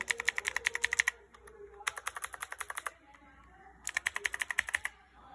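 Mechanical keyboard with Cherry Blue switches and SA profile keycaps typed in three quick bursts, each a rapid run of sharp, clicky keystrokes separated by short pauses, close and fairly quiet.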